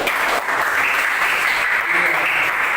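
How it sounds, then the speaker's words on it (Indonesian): A classroom of students claps together in praise, a dense, steady wash of applause filling the whole stretch without a break. "Tepuk tangan dulu."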